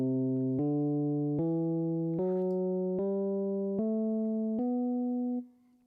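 A B Phrygian scale on a keyboard climbs step by step through eight even, sustained notes, each cleanly struck and ringing to the next, the last one fading out.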